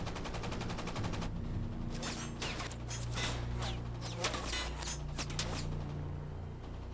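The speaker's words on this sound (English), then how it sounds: "Escorts, now alert to the sub's presence, open fire on Parche in retaliation." Escort warships open fire on a World War II American submarine at night, a dense, rapid barrage of gunfire and machine-gun bursts with steady booming reports over a constant low rumble.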